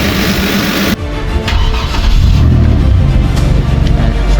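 A Kia Carnival 3.3L V6 petrol engine fitted in a Gazel van cranks and catches after about a second, then settles into a loud, close, steady idle with a slight rising rumble.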